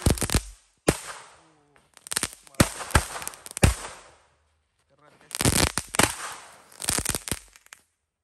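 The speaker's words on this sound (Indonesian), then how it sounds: "Selanjutnya ini ada mercon rainbow stick warna-warni. Ini ada 3 pak, kita nyalakan bosku." Multicolored rainbow stick firecrackers, three packs set off together, burst in a close series of sharp crackling pops in uneven clusters with short gaps between them.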